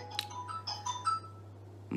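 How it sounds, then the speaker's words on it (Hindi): An incoming phone call's ringtone plays as a short run of faint electronic chiming notes during a Hindi political discussion, with a steady low hum underneath. "एक फ़ोन आ रहा है"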